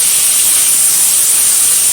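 Potatoes, tomatoes and peas drop into hot oil already tempered with whole cumin for a rohu fish curry, giving a loud, steady, close hiss of sizzling that holds evenly throughout, with no voices.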